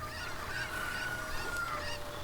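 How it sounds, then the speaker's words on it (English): A chicken from the video game Ocarina of Time squawks in a series of honking, nasal cries over a steady game background hum, fairly faint and continuous. "Gotta use the chicken to get the chicken."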